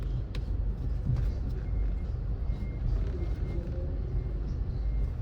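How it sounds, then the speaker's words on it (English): A garbage truck collecting garbage on a Montego Bay street, heard as a low, rumbling idle and engine drone close by with faint clanks; the reversing beeps and air brakes are not clearly distinguishable. "Garbage truck here collecting the garbage."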